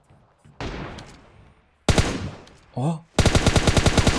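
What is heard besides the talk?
gunfire in the video game PUBG Mobile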